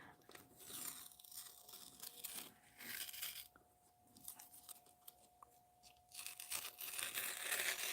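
Sticky washi tape being handled and torn during an oil pastel craft session, giving close, crackly peeling and ripping noises in uneven bursts with a faint steady hum underneath and no talking.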